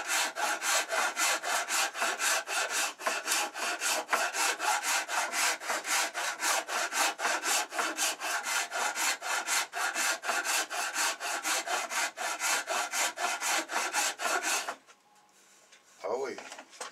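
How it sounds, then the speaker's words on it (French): A Japanese rasp is worked on its fine side across soft wood in quick, even back-and-forth strokes, a close, steady rasping for about fifteen seconds before it stops and someone speaks. "Voilà, ça a bien râpé."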